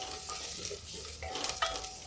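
Garlic frying in oil in a pan on high heat while dal is being made, a steady soft sizzle with occasional stirring scrapes and clinks close by, no talking.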